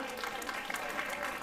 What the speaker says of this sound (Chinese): 掌声没有很热烈